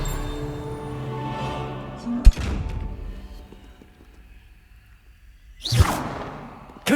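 A spell-casting whoosh from the Hogwarts Legacy video game, the Revelio reveal spell, sweeps in quickly with a sharp burst, followed by quieter ambience and a second swelling whoosh near the end.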